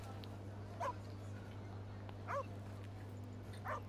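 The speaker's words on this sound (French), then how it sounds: "On maltraite pas les chiens comme ça, hein." A dog whimpers in the video game The Inquisitor, three short high whines spaced evenly over a steady low hum.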